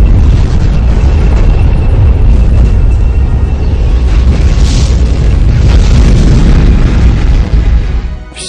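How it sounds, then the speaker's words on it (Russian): A nuclear explosion in a video game: a massive, sustained explosive roar with deep rumbling and crackling debris, loud and continuous, fading slightly at the end. "Вот он, ядерный взрыв."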